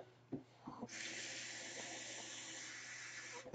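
Water runs from a tap into a pot of cooking beans. After a few soft clunks, a steady hissing stream starts and keeps flowing evenly to the end.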